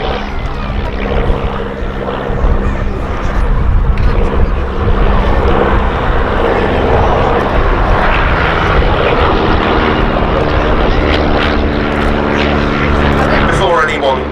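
Miles Gemini light twin-propeller aeroplane flying at an air show, a steady loud engine drone that holds throughout with a rising whine near the end, a commentator's voice running over it.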